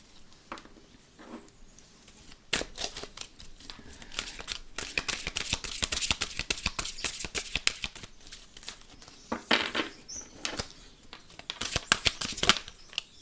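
Oracle cards riffled and shuffled from a deck, making rapid dry papery flicking that runs for several seconds in bursts, close and fairly soft, with no speech.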